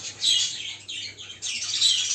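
A small caged bird held in the hand gives sharp, high chirps in two close bursts separated by a short pause, loud and near with no talking.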